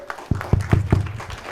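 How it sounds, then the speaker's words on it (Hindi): A few sharp hand claps for a player at a training session in Agra land in quick succession, about four or five beats, then trail off into a low hum. "जोरदार तालियां अनमोल को।"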